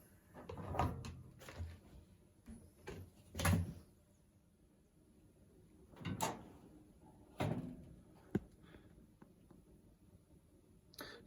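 The door of a Creda Compact 3 tumble dryer, which carries the lint filter, is opened, closed and handled, giving several close plastic clunks and knocks at irregular intervals with quiet stretches between them.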